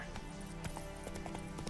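Close, rhythmic galloping hoofbeats from the horse Roach in The Witcher 3, a quick repeating clip-clop pattern over a steady low background tone.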